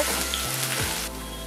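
Crushed garlic and ginger fry in hot oil with a steady, close sizzle that stays even and continuous, with no talking.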